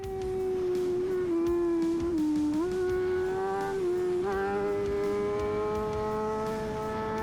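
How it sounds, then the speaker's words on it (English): A 2021 BMW M1000RR superbike engine revs hard and steadily, a loud sustained high-pitched howl that dips briefly and climbs again several times, close and continuous. "BMW Motorrad, the M1000RR"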